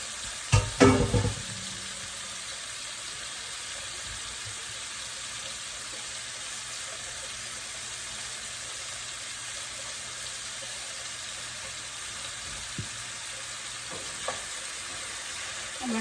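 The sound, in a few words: pumpkin pieces frying in a pan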